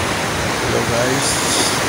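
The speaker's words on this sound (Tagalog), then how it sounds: "Grabe yung lakas ng alon." Strong ocean surf surges at a fishing spot, producing a continuous loud wash of broadband noise that builds slightly toward the end, with faint voices underneath.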